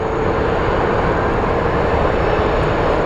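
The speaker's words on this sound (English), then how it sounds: "So that is our, I believe that's the JSX plane taking off." A JSX jet takes off at Phoenix Sky Harbor airport, a steady, loud broadband engine roar holding constant throughout with no voices over it.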